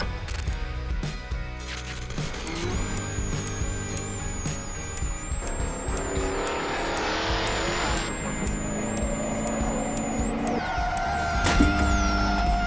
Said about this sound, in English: Chitty Chitty Bang Bang, a custom fantastical car built by Ford for the movie Chitty Chitty Bang Bang